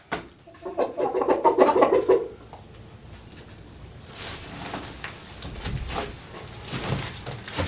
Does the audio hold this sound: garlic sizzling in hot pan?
no